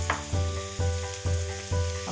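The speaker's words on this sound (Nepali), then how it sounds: "प्याज राखेपछि मैले राखेँ एउटा मसिनो गरेर काटेको हरियो खुर्सानी।" Chopped onion and finely cut green chili sizzle steadily in a hot pan for chicken and beaten-rice pulao, with soft periodic stirring scrapes and no voices.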